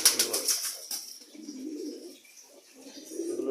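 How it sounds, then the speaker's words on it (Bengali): Male pigeons being let out on a sunny winter day coo in low, soft, rolling tones, with lighter chirps and a flutter of wings in the first second, fairly close and steady throughout. "শীতের রৌদ্রোজ্জ্বল আবহাওয়ায় কবুতরগুলো ছাড়ছি। এগুলো সব নর কবুতর"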